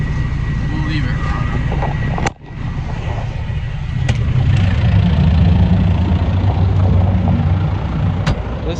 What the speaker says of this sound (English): idle down on this tractor here